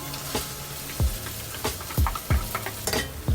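Onion and garlic sizzle steadily in a hot pan, a continuous close frying hiss broken by several sharp clinks of a utensil stirring against the pan.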